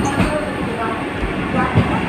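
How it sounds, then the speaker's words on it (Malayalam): Low rumble of a Vande Bharat train rolling into a railway station, steady and close, with faint rhythmic thuds. "കൃത്യസമയത്ത് തന്നെ ട്രെയിൻ സ്റ്റേഷനിലെത്തി"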